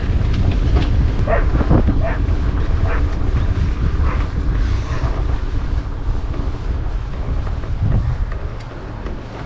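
A tractor passes on a narrow country road in the Val de Saire, heard from a mountain bike. A low, steady engine rumble sits under heavy wind buffeting for the whole stretch.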